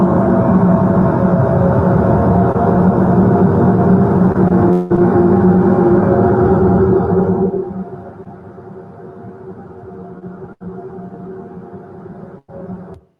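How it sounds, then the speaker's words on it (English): Jupiter's radio emissions converted into sound: a loud, droning, warbling hum with layered tones that holds steady, then drops to a quieter lower drone with a couple of brief breaks near the end. "Jupiter, here is one of the sounds which has been converted from such rays."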